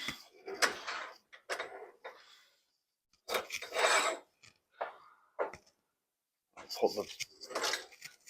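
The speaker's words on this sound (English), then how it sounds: "Slide the drum on." A garage door spring drum slides onto its shaft during a spring replacement, giving short rasping, scraping bursts of metal on metal separated by pauses, close and moderately loud.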